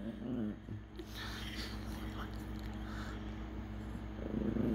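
A Chihuahua whines and whimpers in a low, steady, drawn-out tone, close by, with a few louder rises near the start and end.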